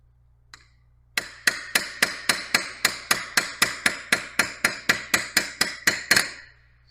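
A Bluejawz carbide hammer taps a warped steel knife blade in about sixteen small, light, evenly spaced strikes. Each ringing tap is crisp and close, with no talking.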